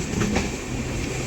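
The Balurghat–Bathinda Farakka Express, a long-route train, rumbles past on rails with a loud, steady roar and faint clatter over a short stretch.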